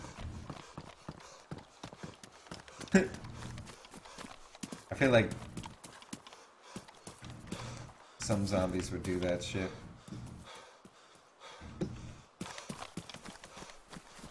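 A white horse gallops in the survival game DayZ, its hooves clip-clopping in quick repeated bursts that come and go, while players talk over the action.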